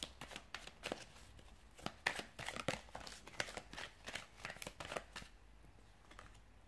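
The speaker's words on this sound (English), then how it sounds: "So we'll give the cards a shuffle" Rapid bursts of riffling tarot cards being shuffled, several quick flurries in a row, close and crisp with no voices.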